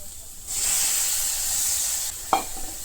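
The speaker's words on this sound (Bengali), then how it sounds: "এখন খালি দেবো একটু মিক্সি ধোয়া জল" Rinse water from a mixer jar poured into a simmering tomato fish curry, a steady close hiss and sizzle that swells and holds, then a small clink near the end.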